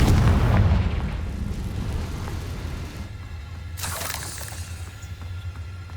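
A Confringo blasting spell explodes in the Hogwarts Legacy video game: a loud, rumbling boom opens, then a sharper burst crackles midway before fading into low background rumble.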